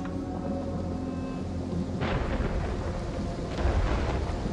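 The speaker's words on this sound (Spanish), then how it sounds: "La tormenta ahí se va," A thunderstorm in Total War Pharaoh Dynasties: steady heavy rain and broad rumbling, with two loud thunder cracks rolling in partway through, with no talk.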